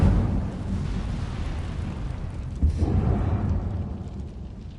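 A fiery Incendio spell blast in Hogwarts Legacy, a deep rumbling whoosh with a burst of flame partway through, loud and close, with no voices over it.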